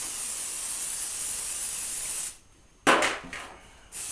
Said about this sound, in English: I'm going to spray these pans.